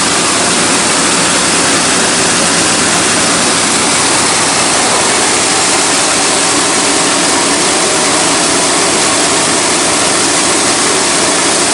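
A loud, steady engine drone from a 1992 Chevy 1500 pickup with a welded water pump running, mixed with a rushing, watery hiss that holds constant throughout.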